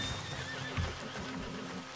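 A horse whinnies in the Red Dead Redemption 2 video game, a single mid-length neigh rising over the steady in-game ambience and faint hoof noises.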